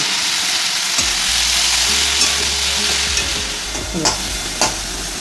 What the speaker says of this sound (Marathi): लसूण फ्राय झाला आहे भाजी टाकून द्या